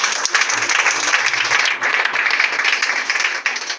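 A church congregation bursts into applause, dense overlapping clapping that stays loud and close throughout, easing briefly in the middle before swelling again, with no speech on top.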